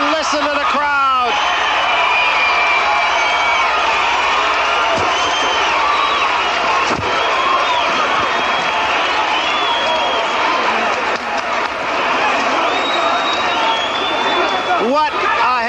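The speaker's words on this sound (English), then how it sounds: "Listen to the crowd." A large boxing arena crowd roars and cheers continuously at the close of the Larry Holmes versus Michael Spinks heavyweight title fight, with whistles and whoops rising over the din.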